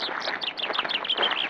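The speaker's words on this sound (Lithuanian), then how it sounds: "Girdime paukščių čiulbėjimą." Birds chirp and tweet in a busy, overlapping stream of quick high calls in a park, moderately close and steady throughout.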